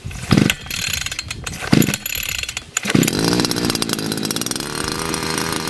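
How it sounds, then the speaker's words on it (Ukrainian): ProCraft petrol brush cutter, primed and choked, pull-started with three quick starter-cord rips before the two-stroke engine catches and settles into a steady, loud, buzzing run close by. "Підкачав і пробую заводити."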